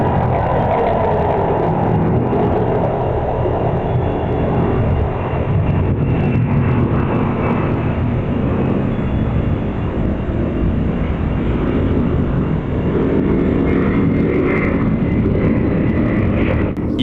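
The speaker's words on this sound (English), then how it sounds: "You can hear a plane landing" A plane comes in to land with a loud, steady broadband engine roar that fills the whole stretch, heavy in the low end and unbroken by talk.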